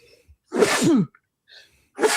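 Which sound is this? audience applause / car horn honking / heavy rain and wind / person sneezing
person sneezing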